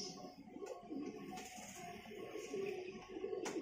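A highflyer pigeon coos in soft, low repeated murmurs, close and quiet, with a few faint clicks and rustles around it.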